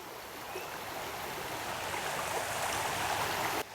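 Frog Creek runs strongly with snow melt, a loud, dense, unbroken rush of water close by that swells slightly and then drops off abruptly at the very end.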